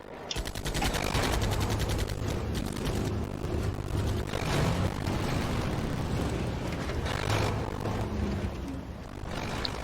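Dense, sustained machine-gun fire rattles at a truck in the SnowRunner video game, a loud continuous fusillade of rapid shots with no pauses across the whole stretch.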